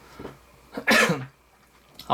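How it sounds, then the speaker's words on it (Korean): A single sharp cough bursts out close to the mic, preceded by a faint throat sound and followed by quiet. "계속 기침 나오네요"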